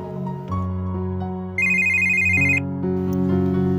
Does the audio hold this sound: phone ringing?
yes